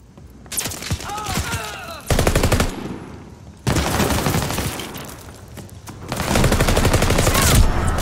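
Rapid automatic gunfire in Call of Duty Vanguard multiplayer, loud dense bursts in three separate volleys broken by short lulls.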